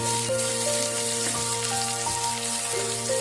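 Paneer pieces frying in refined oil in a pan, a steady close crackling sizzle with scattered pops, alone without talk, under a faint constant background hum.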